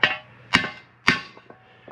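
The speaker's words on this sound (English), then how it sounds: "We'll see if we can hammer this back out a little bit." Three sharp, ringing hammer strikes on a bent metal part being straightened, about half a second apart, each decaying with a metallic ring, followed by a couple of lighter taps.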